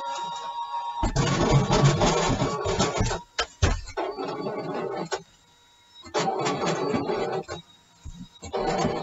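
A cutting machine runs with a universal tool embossing parchment: motor whirs and mechanical grinding come in bursts broken by short pauses, loud and close, with no voices.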